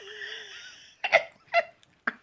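A person vocally imitates the sound of the killer tomatoes from the movie Attack of the Killer Tomatoes, a drawn-out wavering squeal followed by three short sharp gurgling bursts, close and alone.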